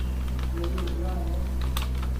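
Typing code on a computer keyboard while writing a beginner C++ if/else program, with soft scattered key clicks set against a steady low hum, and someone speaking Hindi quietly over part of it.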